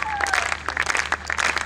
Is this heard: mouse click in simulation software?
no